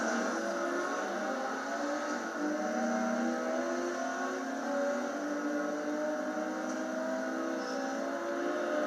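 In Forza Horizon 2, a Lamborghini engine drones with a steady, continuous roar during a race, holding an even level throughout with no voices.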